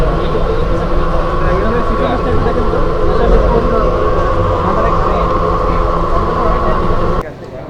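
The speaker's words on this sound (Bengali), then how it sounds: "ট্রেন ছেড়ে দিল এয়ারপোর্ট রেলওয়ে স্টেশন থেকে" Inside a crowded carriage of the Shaikat Express as it pulls out of Airport Railway Station, a steady loud rumble and rattle of the train runs throughout, then drops away abruptly near the end.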